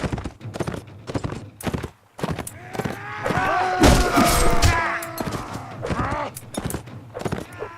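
Horse hooves clip-clopping and thudding in Mount and Blade Warband during a samurai battle, with the mount wounded and slowing; rhythmic hoofbeats mixed with loud battle clashes, impacts and a surge of noise midway.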